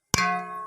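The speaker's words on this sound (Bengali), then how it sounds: "এবার ঢাকনা দিয়ে দেবো।" A metal lid set down onto a pan, one sharp clang followed by a bright ringing tone that fades slowly over a fraction of a second.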